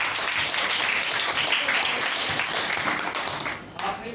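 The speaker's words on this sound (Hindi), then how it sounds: "उनके लिए तालियां बजाना एक बार।" An audience claps and applauds continuously, a dense crackle of many hands that thins out toward the end.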